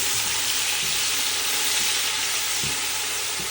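Chopped tomatoes fry with browned green chillies in a pan for kadhi pakora. A loud, steady, dense sizzle and crackle of hot oil runs without a break throughout, with no voices.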